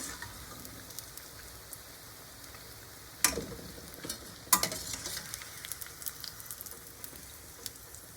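Battered vada for vada pav fries in hot oil, a soft continuous sizzle and bubbling with a few sharper crackles and spatters as pieces are dropped in, fairly quiet and close, with no talking.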